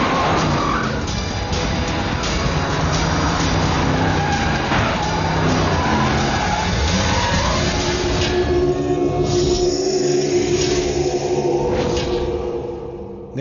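Loud vehicle engine roar with screeching tires skidding during a chase in a Telugu movie scene, sustained and close throughout with no speech.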